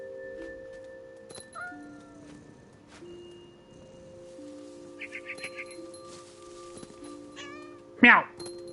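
Several short cat meows in What Remains of Edith Finch against a quiet electronic game soundtrack of sustained tones, ending with a sharp, louder yowl.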